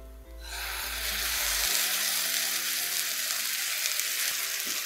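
Chicken pie stuffing seasoned with salt, black pepper, garlic powder and oregano fries in a pan over low flame, giving a steady close sizzle with light stirring throughout.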